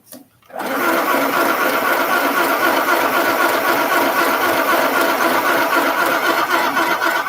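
A sewing machine runs a zigzag stitch, giving a loud, continuous, even mechanical whir that starts abruptly after a short quiet moment and holds steady throughout.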